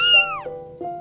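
A small orange kitten gives two clear meows, the first rising then falling and the second shorter, close and alone against a faint steady hum.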